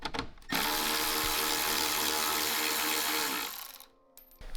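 A power tool spins out a 7mm bumper bolt on a Corvette C8, a close, loud, steady whirring buzz lasting about three seconds before winding down, with a short burst starting again at the end.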